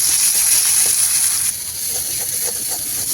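Masala with goat liver and stomach frying in a pan over a clay stove, a steady loud sizzle and hiss that continues unbroken, with no talk over it.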